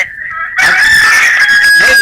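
A neighbour's chicken lets out a loud, close crowing call after a brief quieter moment, the drawn-out cry rising sharply and carrying on to the end with a few clucky breaks.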